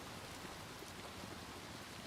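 Light drizzle falling steadily in Little Nightmares II, a soft, even hiss of rain that fills the whole moment with no other sounds on top.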